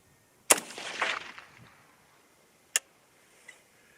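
A single rifle shot from an Aero Precision M5 with a 20-inch barrel firing 6.8 SPC-II, a sharp crack with a short rolling echo, followed later by a faint sharp click and a softer tick.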